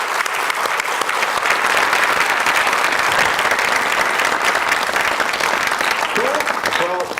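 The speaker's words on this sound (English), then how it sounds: "let's have a round of applause for these 3 amazing entrepreneurs." A crowd at a talk by three social entrepreneurs claps steadily throughout, dense sustained applause with a few faint whoops near the end.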